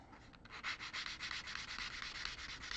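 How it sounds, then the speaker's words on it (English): Rhythmic hand sanding on the wooden body of a Telecaster guitar, a quiet series of scratchy back-and-forth strokes at a steady pace, close by with no talking. "sanding"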